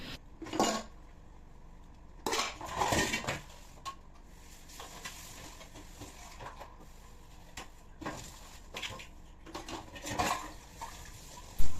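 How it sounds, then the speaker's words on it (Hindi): Dishes, pots and pans being washed after cooking biryani, with scattered clinks and clatters of utensils in bursts separated by quieter pauses, close by and without talk. "मैंने हाथ के हाथ बर्तन भी धो लिए हैं"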